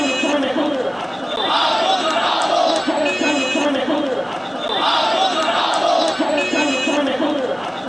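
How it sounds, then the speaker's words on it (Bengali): A street protest crowd at a junction in Chattogram chanting slogans in unison, loud rhythmic call-and-response waves of many voices repeating in regular cycles. "আন্দোলনকারীরা অন্তর্বর্তীকালীন সরকারের প্রশাসনিক ব্যর্থতার অভিযোগ তুলে ইন্ডিয়ান আধিপত্যবাদ বিরোধী স্লোগান দেন"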